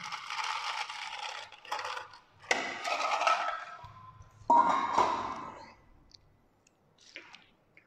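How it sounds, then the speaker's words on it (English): Ice cubes drop into a glass for a yam coffee almond milk latte, making several bright clinking and rattling bursts with short pauses between them, close up and without talk. "加多一点冰块。"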